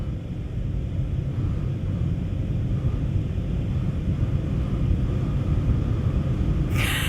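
Steady low rumble of F-35 fighter jets flying overhead in the video game Consortium, a continuous droning roar with no voices.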